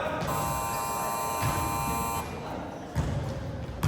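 A basketball shot clock buzzer blares as a steady, harmonic electronic tone for about two seconds during a game, over a background of court noise, squeaking and shuffling.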